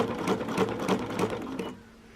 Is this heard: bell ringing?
no